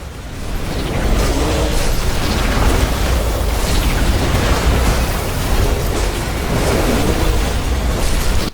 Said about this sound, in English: An energy connector has been destroyed.